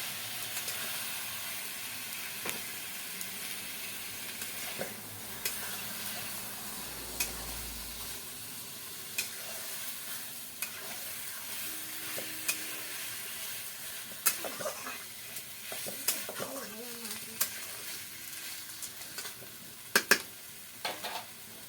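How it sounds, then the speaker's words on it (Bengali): Spice paste of onion, garlic, ginger, cumin and whole garam masala being sautéed with chilli for a village style chicken curry, a soft steady sizzle with scattered stirring scrapes and clinks, quiet and close. "লঙ্কা দিয়ে এবার ভালো করে কষিয়ে নেব"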